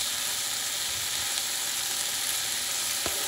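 Long beans sautéing with soy sauce in a pan for Filipino vegetable adobo, a loud, dense continuous sizzle heard close up with no voices.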